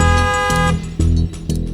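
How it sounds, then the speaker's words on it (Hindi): A car horn sounds from a waiting vehicle outside a home, loud and close, with sustained blasts broken by short gaps, layered over a tonal background. "मेम साहब, ड्राइवर हॉर्न दे रहा है"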